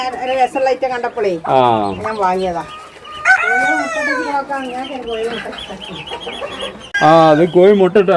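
Free-range native country chickens kept by a homemaker cluck close by in repeated bursts, with occasional crowing-like calls, while people talk over and between them.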